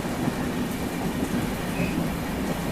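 Steady, dense rumble of a train, the Trivandrum Rajdhani Express, crossing in heavy rain, with a constant wash of rainfall and rolling noise and no clear voices.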